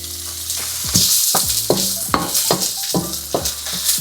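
Onion and garlic sautéing together in a hot pan for chicken sotanghon soup, a steady close sizzle with repeated stirring scrapes and clacks of a utensil against the pan, no voices.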